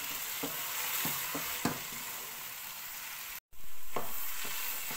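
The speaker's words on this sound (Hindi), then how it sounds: "मीडियम फ्लेम पे भुनाई करते हुए मैं इसमें कुछ ड्राई फ्रूट्स ऐड कर रही हूँ और कंटिन्यूसली इसमें स्टर करती जाऊँगी।" Grated carrot halwa with dry fruits roasts over a medium flame while a spoon stirs and scrapes the pan. A constant frying sizzle runs under rhythmic scraping knocks, broken by a brief moment of silence.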